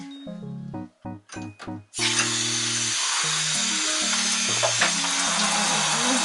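A shower runs at a steady, loud hiss while a dog is being bathed. It starts after about two seconds of short melodic tones, and the tune continues faintly over the spray.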